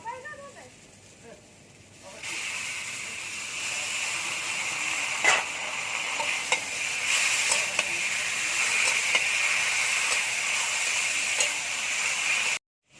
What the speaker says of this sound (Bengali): কাঁঠালের দানাটা লাল লাল করে ভাজা হয়ে গেছে এবার জল ঝরিয়ে রাখা কচুর শাকটা দিয়ে দেবো